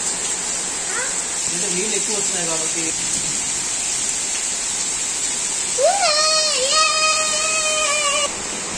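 Steady rain falls in Bangalore as heard from a balcony, a constant loud hiss throughout, with a cat's meow and a voice-like wavering cry rising above it partway through.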